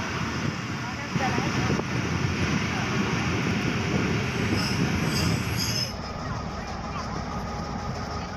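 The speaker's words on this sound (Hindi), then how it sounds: "हम ट्रेन से उतर चुके हैं और ट्रेन अब आगे जा रही है अपनी मंजिल की तरफ" A Marvi passenger train at a small station in Pakistan produces a loud, steady rumble of wheels and carriages that drops in level near the end as it pulls away, with someone talking over it.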